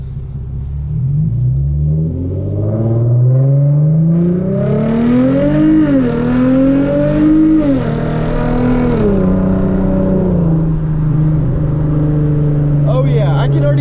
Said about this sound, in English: that is so much louder than full throttle was before